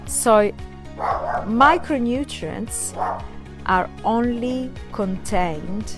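Dog barking indoors in short repeated yelps and bow-wows scattered across the stretch, mixed in with a person talking continuously.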